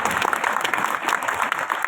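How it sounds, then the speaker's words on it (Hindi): Audience applause at a Hindi poetry recital: a short, dense patter of many hands clapping together at moderate volume, with no clear pauses. "चार तालियां कमजोर है आपकी।"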